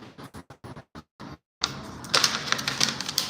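Paper being creased and folded by hand into origami butterflies, first a run of light, evenly spaced taps, then a continuous close rustle and crinkle with sharper snaps.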